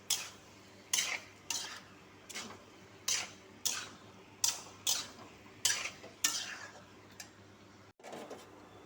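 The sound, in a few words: sautéing soybean chunks and potato in spice masala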